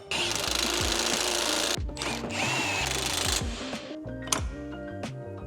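Power tool driving home the bolts on a coilover suspension install on a Subaru WRX, several loud whirring bursts of a drill or impact driver with short pauses between, close by and with no talking.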